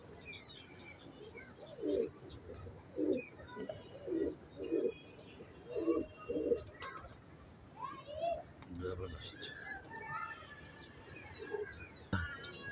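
Soft, low, slightly hoarse coos from a high-flyer pigeon on a Lahore rooftop repeat in a loose rhythm, with faint chirps and rustling in the background and a few quiet voices around.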